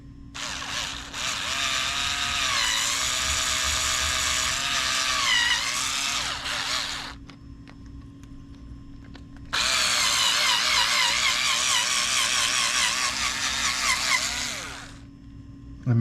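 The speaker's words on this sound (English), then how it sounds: "next we're going to want to drill a big hole in the middle of this servo horn" A power drill with a 1/4 inch bit bores a big hole through a plastic servo horn in two loud, close bursts of whining, with a short quiet gap between them.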